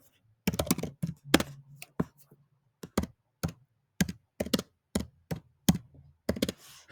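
Keys clatter on a computer keyboard in short bursts and single taps while a message is typed, with irregular pauses between clusters of keystrokes, close and fairly loud, and no voices.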